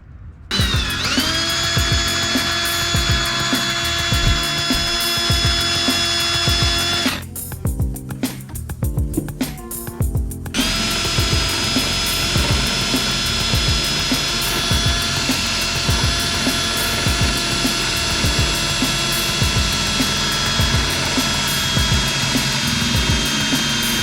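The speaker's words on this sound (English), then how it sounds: "Drill two holes" A power drill whirs steadily at high pitch boring holes in a wooden cabinet, pausing briefly partway through before boring again, with a bright sustained whine and faint clatter underneath.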